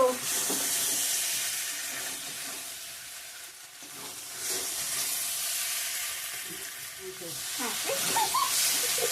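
Chicken curry in a hot pan hisses and sizzles loudly and steadily as hot water goes in, with stirring scrapes and bubbling that swell and fade over several seconds.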